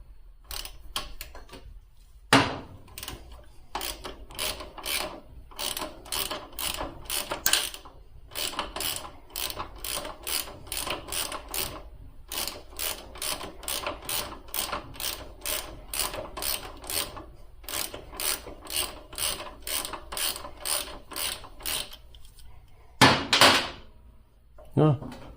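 A Knipex adjustable wrench works a nut on the back of a motorcycle shift lever, giving a long run of rapid, evenly spaced metallic clicks close by, with brief pauses and a louder clatter near the end.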